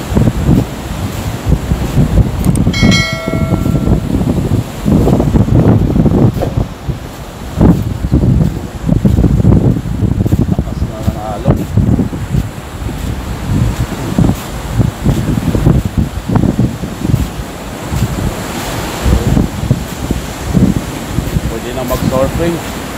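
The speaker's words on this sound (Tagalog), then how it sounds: "sa sobrang lakas ng alon." Strong sea waves break steadily on a beach in rough weather, with gusting wind buffeting the microphone throughout; the surf roars loud and close, with occasional voices under the noise.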